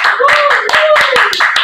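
An audience at an Indonesian talk event claps along in a brisk, regular series of sharp hand claps, heard close and loud beneath a continuous speaking voice.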